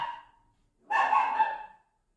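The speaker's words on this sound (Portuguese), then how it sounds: "cachorro não fala, então ele tem que latir" A single short dog bark or yip, fairly close, after a brief quieter sound and then silence.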